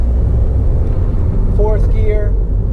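Manual-transmission car cruising through the gears, a steady low engine and road rumble filling the cabin with a brief rise in tone as it shifts; someone talks over it throughout.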